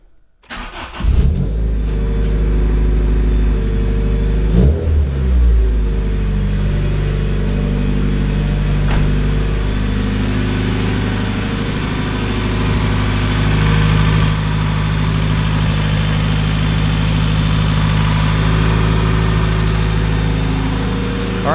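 A car engine in a freshly cleaned bay with new parts cranks briefly, catches and fires up, revs once, then settles into a loud, steady idle close by, with no talking.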